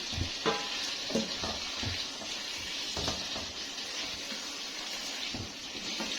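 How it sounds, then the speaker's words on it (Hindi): Eggs and chillies are stirred into a simmering potato and egg curry gravy, giving a faint bubbling sizzle with soft, irregular scraping stirs through the whole stretch. "अंडे ऐड करके मिक्स करेंगे और साथ ही मैं इसमें ये सब मिर्चें ऐड करूँगी"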